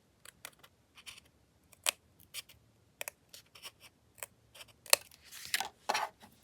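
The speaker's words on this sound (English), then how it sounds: "I'm going to try cutting this one from this side. Trim it a little more." Scissors snip paper to make journal ephemera in scattered, sharp, close cuts with short gaps between them, ending in a small rustle of paper handling. The setting is quiet, with no talk.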